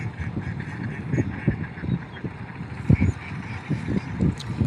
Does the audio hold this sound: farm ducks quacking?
yes